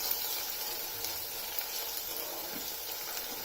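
Diced fennel sizzles steadily in a hot frying pan, standing in for onions in a vegetable dish: a continuous close hiss and crackle that stays even throughout, with no voices.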